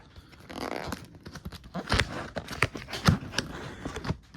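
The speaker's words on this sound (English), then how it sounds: "now I can start opening the sign up" Packaging for a new LED battery backup exit sign is pulled open up close, with crinkling, scraping and a few sharp knocks and thumps in uneven bursts.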